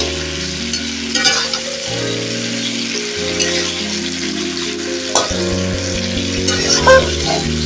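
Chicken meat sautés in a pan with a continuous loud sizzle and the repeated scrape and shuffle of stirring, close up.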